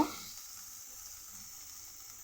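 Onion and tomato sizzle steadily in a pan, a continuous bright hiss that fades slightly after a brief initial clatter.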